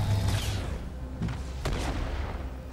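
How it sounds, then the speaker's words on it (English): Grenade launcher fire from enemy Brutes in Halo 2 Anniversary Edition: several dull booms and bursts over a steady rumbling battle din, with one sharper blast standing out partway through. "they're shooting with grenade launchers"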